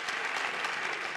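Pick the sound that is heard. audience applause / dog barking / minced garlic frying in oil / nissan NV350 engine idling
audience applause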